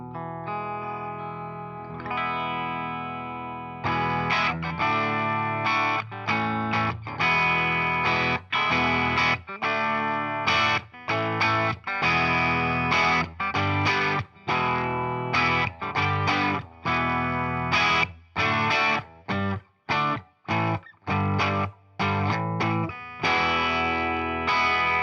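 A Peavey ST-LTD electric guitar played clean on its humbucker pickup through a Kustom KPC12 cabinet with a Peavey Scorpion speaker, sustained chords and picked notes with some choppy stops, loud and close with no voice.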